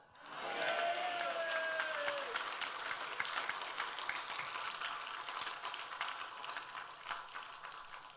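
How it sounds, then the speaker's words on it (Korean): A church congregation claps together at a New Year service, a sustained, fairly distant wash of many hands with a brief whistle or cheer near the start, steady throughout and tapering slightly at the end. "박수 잘 치셔가지고"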